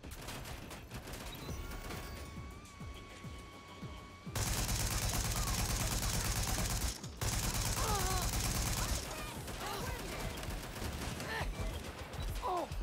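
Turret gunfire in Watch Dogs Legion, a dense, loud sustained burst of rapid shots that roars for several seconds, cuts briefly, then resumes, with a faint tone and quieter ambience before it.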